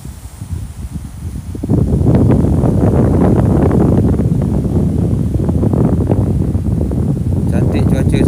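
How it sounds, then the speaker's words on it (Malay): Strong wind rushes and buffets loudly across the microphone at Pantai Hiburan beach in Rompin, Pahang, a rough continuous roar that swells after a quieter start. "Angin ni dia lalu kat telinga menderu tau"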